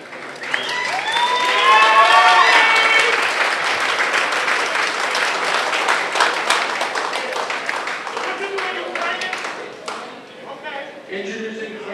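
A crowd at a boxing event in a gym claps and cheers in a sustained wash of applause that swells early and then slowly thins, with voices and shouts mixed in throughout.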